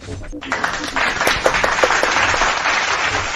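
A quick run of sharp hand claps sounds close by, repeated several times in a loose rhythm over a low background.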